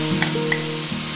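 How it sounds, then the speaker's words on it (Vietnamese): Jicama and shiitake mushrooms stir-fried with pork in a pan, giving a steady sizzle with a few brief clinks as the food is stirred. "Tiếp theo theo mình sẽ cho củ sắn và nấm đông cô vào xào trước."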